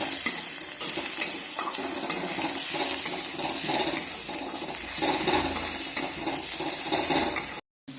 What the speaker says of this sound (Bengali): এবার তেলের মধ্যে পেঁয়াজটা দিয়েছি। পেঁয়াজটা একটু লাল করে ভেজে নিতে হবে।